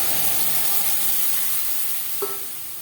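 Boiled moong dal poured onto fried coconut in a hot pan gives a steady hissing sizzle that slowly fades, with a single brief clink near the end.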